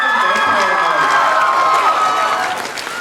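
Studio audience at an anime-themed dating game show cheering and squealing for a vampire bachelor, a loud sustained crowd roar with high-pitched shrieks and some clapping, easing slightly toward the end.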